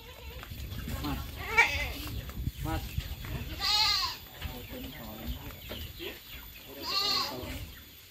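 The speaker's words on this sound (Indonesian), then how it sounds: "kambing merah" Goats bleat in a farm pen while a buyer inspects the livestock, with three or four wavering bleats standing out over background chatter and farmyard noise, including one long loud cry near the middle and another toward the end.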